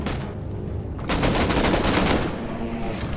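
Rapid gunfire bursts from the video game Rust during a raid, a dense volley of shots hammering continuously for about a second and a half, loud and close, then trailing off.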